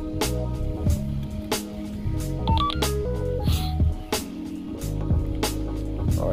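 Beeps from a handheld package-scanning phone used by a UPS personal vehicle driver, several short tones over a busy, layered background, some repeating in quick pairs.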